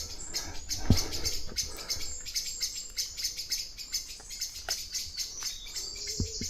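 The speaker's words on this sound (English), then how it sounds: "you'll get blackbirds creating and making a noise if anything's near their nests" Several blackbirds give sharp, repeated chipping alarm calls in a busy overlapping chorus, fairly close, with a faint insect hum beneath.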